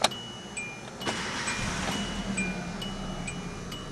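A 2008 Kia Rio LX with a four-speed automatic starting at night: a short crank burst, then the engine settling into a steady, fairly quiet idle hum, with no voices.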